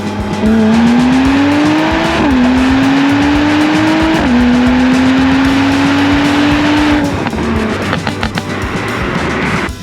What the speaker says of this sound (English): What's more impressive is probably the exhaust that's going off and burbling like crazy.